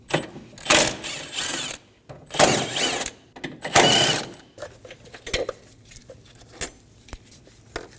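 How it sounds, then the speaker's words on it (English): A 10mm socket ratchet takes out the bolts under the air box of a 2008-2015 Scion xB 2.4L L4, giving bursts of rapid ratchet clicking followed by metallic clinks and handling noises close up. "Using a 10mm socket, remove the 3 bolts in the bottom of the air box."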